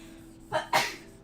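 A quick two-part sneeze, a short intake followed by a loud explosive burst, close up and alone.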